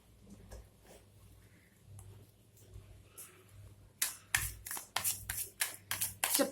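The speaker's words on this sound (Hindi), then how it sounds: "जब तक मैं शफल कर रही हूँ" Tarot cards being shuffled by hand, quiet soft handling at first, then a run of sharp riffling bursts in quick succession, close and alone.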